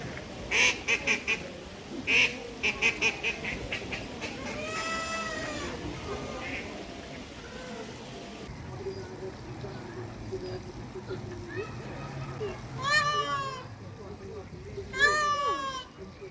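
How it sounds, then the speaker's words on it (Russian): Peacocks call in loud, wailing bursts, with ducks quacking nearby in a park in Portimão on the Algarve. Several calls come in separate bursts over a steady outdoor background. "разгуливают павлины, плавают утки со всем своим желторотым семейством"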